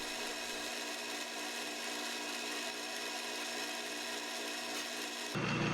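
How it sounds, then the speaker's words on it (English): A lathe tool cuts a groove into the end of a John Deere 110 lawn tractor tie rod, producing a steady, continuous grinding hiss up close that shifts abruptly at the end. "I'm going to make a little groove at this end so I have a place for the tool to start"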